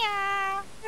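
A single cat meow from the video game Minecraft, a clear, close, sustained tonal cry lasting under a second, heard on its own.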